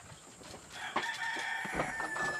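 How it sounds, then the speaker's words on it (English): A rooster crows once at a moderate distance, a drawn-out rising call over quiet background noise, with no talking. "you can hear the rooster"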